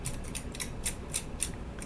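Small cutters snip off sanding lines on an HO scale model locomotive at a steady pace, a series of crisp clicks close up against a constant background hiss.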